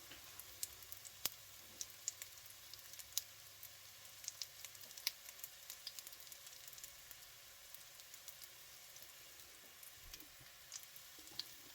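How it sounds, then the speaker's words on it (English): Sliced St George's mushrooms frying in a pan, a faint steady sizzle with soft scattered pops and ticks, continuous and without talk. "So then we're going to add the St George's mushrooms that we sliced."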